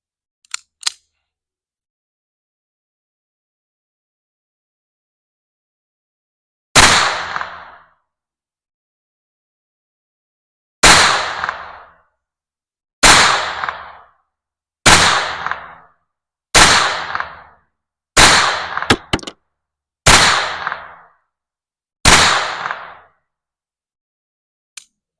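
Eight sharp gunshots from a Beretta 950 Jetfire .25 ACP pocket pistol, fired singly at an irregular pace with short ringing decay after each, following a faint click at the start.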